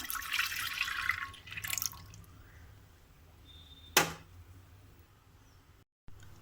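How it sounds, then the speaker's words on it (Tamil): Unboiled cow's milk pours into a new clay pot in a soft, splashy rush for about two seconds, then quiets, followed later by a single sharp clink. "கால் லிட்ரு பால் காய்ச்சாத பால் பசும்பால் இதை வந்து இதில் ஊற்றிக்கிறோம்"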